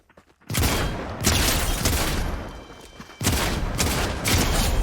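Shotgun blasts in Fortnite, several loud, close booming shots spaced about a second or two apart, each with a brief decaying tail.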